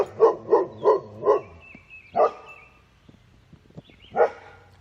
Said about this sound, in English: Pearl, what are you barking at?